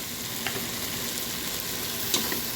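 Chilies and bell pepper frying in a pan, a steady broadband sizzle with a couple of soft scraping stirs of the spoon against the pan, close and continuous without speech.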